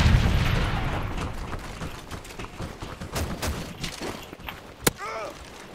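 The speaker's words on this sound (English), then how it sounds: "Throwing stun grenade!" A stun grenade goes off in a shooter video game, with a strong initial blast fading into scattered gunfire pops and sharp cracks, one loud bang near the end, and faint voices underneath.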